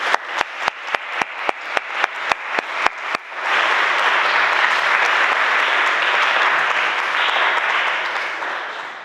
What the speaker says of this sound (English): Give everyone a big round of applause, please.